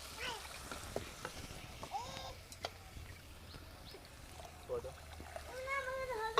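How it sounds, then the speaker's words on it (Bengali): Water poured onto fried spice paste for a pangas fish and bottle gourd curry sets off a close, steady sizzle and bubbling. Faint stirring clicks sit underneath, and a few short voiced sounds rise near the end. "আমি দিয়ে দিচ্ছি জল।"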